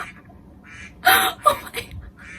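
A duck-quack sound plays as an alarm tone, a few loud bursts standing out briefly over a quiet room.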